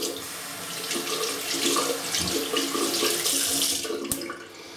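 A tap runs steadily into a sink, wetting a shaving brush under the stream for several seconds before the flow stops, close and fairly loud, with no talking.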